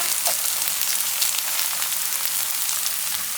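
Minari pancake batter, crisped with frying and tempura flour, sizzling in oil in a pan, a steady bright crackling hiss close up with no talk over it.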